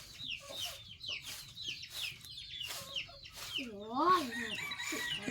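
Chickens cluck repeatedly in short rhythmic bursts at close range, building into a louder rising squawk toward the end, with faint voices in the background.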